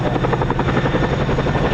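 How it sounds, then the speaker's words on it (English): A twin-rotor MH-47G Chinook special operations helicopter flies close by at an RAF air base, its dense rotor thump and turbine roar loud and continuous with no voices. "it's a special operations type of Chinook"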